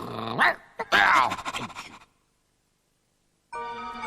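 A puppy growls and snarls in a butter television advert, a couple of bursts close and loud, then silence before a brief tonal sound returns.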